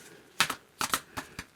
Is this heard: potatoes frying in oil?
no